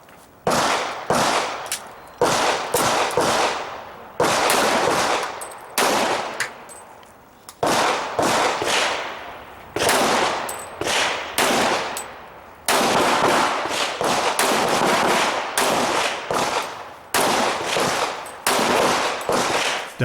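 A pistol shooter fires at an IDPA match at Mecklenburg Wildlife Club, with loud, sharp shots in rapid strings broken by short pauses, echoing across an outdoor range.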